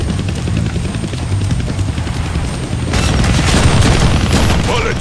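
A helicopter in the Deadpool video game, a steady whirring rotor drone that swells louder midway, with rumbling explosions and gunfire mixed underneath.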